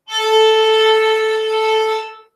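A single sustained bowed violin note, thin and somewhat scratchy from bowing too fast or with too little pressure, held steadily for about two seconds with no talking.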